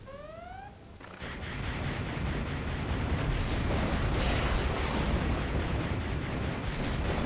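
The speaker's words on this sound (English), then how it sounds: "Little rockets." Rockets exploding in the real-time strategy game Command and Conquer Generals Zero Hour, USA skirmish: after a brief whistle, a loud, continuous roar of overlapping blasts and rumble holds steady to the end.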